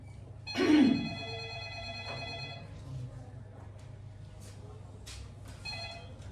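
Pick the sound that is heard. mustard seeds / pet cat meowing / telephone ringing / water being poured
telephone ringing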